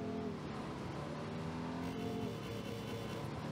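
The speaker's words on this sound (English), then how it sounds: "the cop car here, the police car here, is not like in GTA 5" A police car in a video game drives by with a steady engine drone and shifting pitch, moderately loud and continuous, with no talking.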